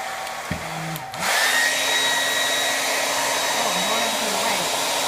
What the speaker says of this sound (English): the good thing about the blow dryer is it's super fast